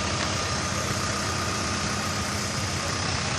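A vintage Fiat Agri tractor engine idles at a farm machinery show in Bagnolo in Piano, a steady, dense running drone that holds unchanged throughout with no voices over it.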